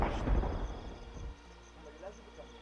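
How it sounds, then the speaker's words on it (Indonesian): A deep, rumbling video game thunder effect rolls in loudly at first, then drops away abruptly, leaving a faint low hum and scattered soft tones. "kenapa setiap kali kita menyatukan ini terdengar suara guntur?"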